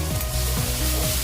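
Beef stir-frying in a hot wok with soy sauce, loud close sizzle under a steady rhythmic scraping of the spatula tossing the meat, with no talk.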